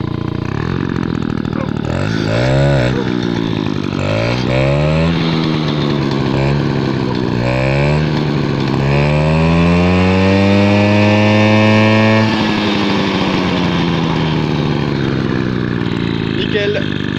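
GT10 two-stroke moped engine revved by hand several times, rising and falling in pitch, then one long climbing rev held high before dropping back to idle; loud and close with no talk.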